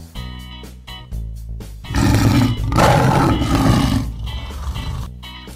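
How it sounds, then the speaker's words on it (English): A lion roars loudly in a long, rumbling burst that swells and fades, set between stretches of plain musical backing. "Lion."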